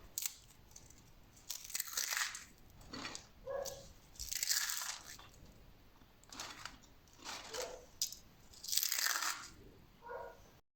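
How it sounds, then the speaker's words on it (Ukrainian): Crunchy homemade chips made from mashed potato are bitten and chewed, giving a series of sharp, close crunch bursts spaced every second or two across a quiet background. "Ось такі хрумкі домашні чіпси у нас вийшли"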